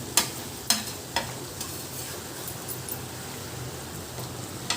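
Mutton eral fry stirred in a pan, a spatula scraping in a few sharp strokes over a soft continuous sizzle, close and alone.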